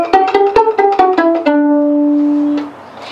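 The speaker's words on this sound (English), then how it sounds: "Or I can use my fingers and make a sound called pizzicato." Violin strings plucked pizzicato, a quick run of short ringing plucks followed by one longer sustained note that slowly fades, close and clear with no talking.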